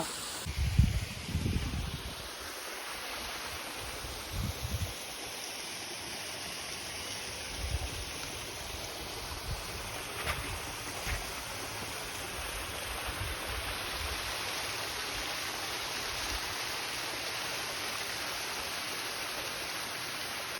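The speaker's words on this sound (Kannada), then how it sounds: "ಸ್ಟೋರ್ ಆಗಿರೋ ನೀರು ಇಲ್ಲಿ ಬಂದು ಜಲಪಾತವಾಗಿ ಹರಿತಿದೆ ನೋಡ್ಬೋದು" Steady broadband rush of falling water at Muthyala Maduvu waterfall near Bengaluru fills the scene continuously, with a few low thumps near the start; no voices.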